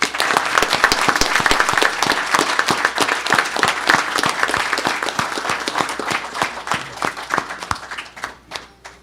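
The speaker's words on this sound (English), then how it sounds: "a round of applause for each and every one of them." A sustained round of applause from a crowd at a city government event, loud and dense at first, then thinning out and fading toward the end.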